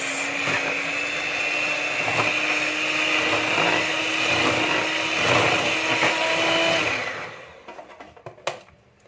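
An electric mixer whirs steadily through banana cake batter, loud and close, with a continuous motor hum for about seven seconds before switching off and leaving a few clattering knocks.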